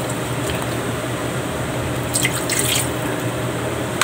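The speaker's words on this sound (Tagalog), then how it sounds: "Tapos lagyan ko na ng tubig guys." Water is poured into a cooking pot while making a Filipino ginataang tulingan dish, a steady close splashing stream with a few brighter drips and sloshes midway.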